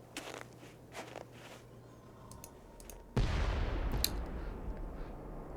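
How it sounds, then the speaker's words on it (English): An explosion in the Nancy Drew: White Wolf of Icicle Creek video game bursts in suddenly after a few quiet clicks, then becomes a loud, sustained rumbling roar that fills the rest of the clip. "sounded like an explosion."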